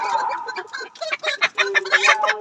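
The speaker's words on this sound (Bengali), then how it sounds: "আমরা আজকে 300 পিসের মতো লেয়ার মুরগি যেটা পাঠাবো চট্টগ্রামে" Layer hens kept on a poultry farm cluck and squawk in a steady, overlapping chatter, close and fairly loud, with no talk over them.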